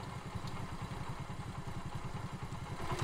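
A motorcycle engine chugs steadily with a low, pulsing thump-and-clatter, heard alone at moderate distance as the bike arrives.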